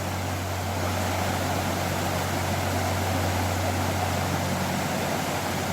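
Narrowboat engine running at high revs near a bridge on a canal, a steady loud drone with a low hum and broad rushing noise throughout, unbroken and close.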